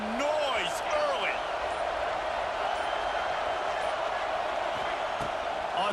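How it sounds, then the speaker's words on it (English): Steady stadium crowd roar in an American football video game, a constant dense wash of noise with a few faint whistles and shouts on top, and a commentator talking over it. "This crowd bringing the energy and noise early."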